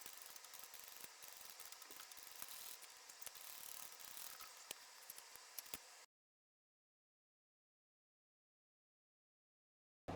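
A sewing machine top stitches a seam on a sling pack at a 5 stitch length, a steady rapid mechanical ticking whir for about six seconds before it stops into silence.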